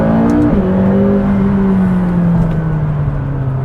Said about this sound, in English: let's slow down and do first gear just to see.